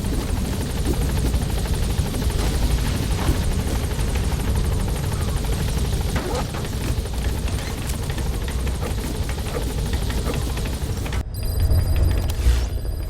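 A helicopter in Metal Gear Solid V: The Phantom Pain thrums with a loud, steady rotor chop that stays up close and constant, ending in a sudden cut to a quieter ringing tone.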